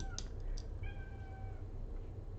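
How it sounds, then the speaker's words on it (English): A cat meows outdoors, heard faintly from inside a room, with a couple of drawn-out mews over a low steady room hum. "I hear a cat outside."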